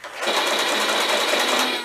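A short, loud buzzing whir from a NERF Aliens M41-A pulse rifle toy, a steady electronic mechanical rattle lasting under two seconds, close by.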